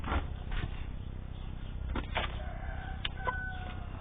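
Occasional chicken clucks and a brief crowing note over a steady low rumble of background noise, fairly faint.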